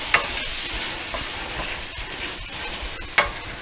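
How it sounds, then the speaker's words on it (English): Garlic and diced tomatoes frying for chicken and shrimp paella, stirred in the pan: an even close sizzle with a few sharp clinks of the utensil against the pan, no voices. "I'm going to put in those beautiful tomatoes we diced up. Give that a good stir."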